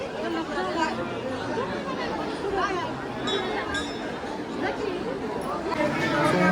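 A dense crowd queues for darshan at a Mahalakshmi temple, a steady babble of many voices close around, with faint clinks now and then.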